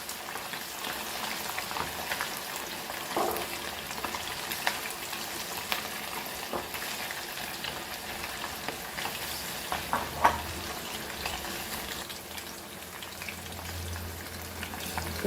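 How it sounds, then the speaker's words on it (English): Silver smelts coated in rava fry crisply in a pan of hot oil, giving a steady, soft sizzling crackle with occasional louder pops and brief clinks, continuing evenly throughout. "So let it fry crispy"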